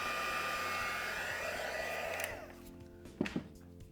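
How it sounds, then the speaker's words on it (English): Heat gun blowing hot air onto embossing powder during a stamping craft project, a steady loud whooshing drone for about two seconds that cuts off, followed by a few faint clicks and handling sounds. "Keep making sure that you're pointing the heat gun away from your embossing powder."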